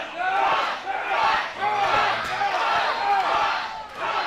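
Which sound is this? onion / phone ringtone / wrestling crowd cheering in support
wrestling crowd cheering in support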